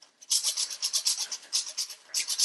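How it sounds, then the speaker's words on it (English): Dried corn kernels scraped against a tin grater by hand, giving a close, rhythmic series of short, rasping strokes that repeat steadily with brief gaps between them. "They were onto something when they said that they actually used a tin grater for their corn."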